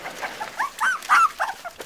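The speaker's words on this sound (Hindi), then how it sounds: "मम्मी को देख के अपनी ना भौंकने लग गए।" Several dogs bark and yip in quick, uneven bursts, high-pitched and fairly close, with a few whiny notes between barks.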